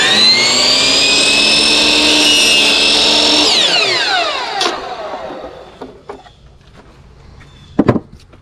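A power tool cuts a PVC boat trailer guide post to length, a loud, close, high whine that holds steady and then spins down, followed by a few sharp knocks and clatters as the piece is handled.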